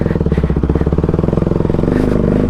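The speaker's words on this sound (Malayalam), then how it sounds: "നമ്മൾ ഡ്യൂക്കിൻ്റെ സൈലൻസർ കേട്ടു ലീഗലായിട്ട്" A KTM Duke motorcycle revs through its exhaust silencer, a loud, close, rapid pulsing engine note that climbs steadily in pitch and intensity over a couple of seconds.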